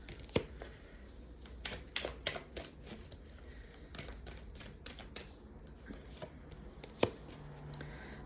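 Tarot cards being shuffled and drawn from the deck, giving quick papery riffles and soft slaps with a few sharper snaps, close and fairly quiet with no talk.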